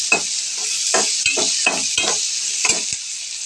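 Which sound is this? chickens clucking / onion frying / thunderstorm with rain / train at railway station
onion frying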